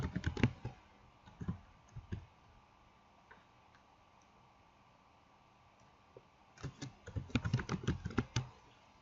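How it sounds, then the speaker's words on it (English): Keystrokes from a computer keyboard while text is entered into an HTML page, a short burst at the start, a few scattered clicks, then a denser run of quick typing near the end, fairly quiet and close. "if I type in here hello world"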